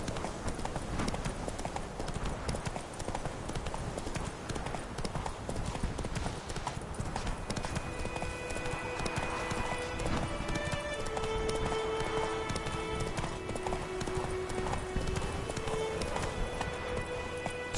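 Horse hooves galloping in the video game The Witcher 3, a steady rapid clip-clop beating throughout, loud and close, with tonal game sounds rising in the second half.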